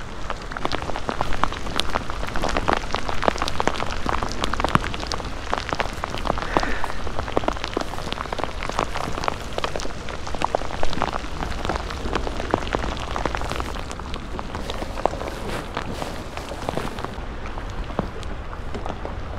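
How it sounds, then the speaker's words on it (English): Heavy rain from a thunderstorm pours steadily onto a lake, a dense continuous hiss of splashing drops with no talking, loud and close throughout. "we're not even supposed to get that much rain today and here we are we got thunderstorms"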